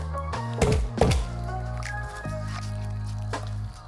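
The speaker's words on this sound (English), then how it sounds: "quick crush of your garlic cloves" Four garlic cloves are crushed in a home kitchen while cauliflower steak is prepared, giving two sharp, close crunching thumps early on over a steady low background hum.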